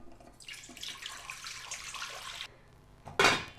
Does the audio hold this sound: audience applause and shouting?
no